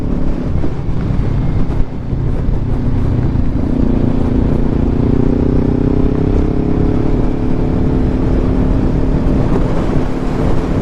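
A 2018 Kawasaki Ninja 400 cruising on an interstate, its engine a steady, loud drone with rising tones buried in heavy wind buffeting, constant from start to finish.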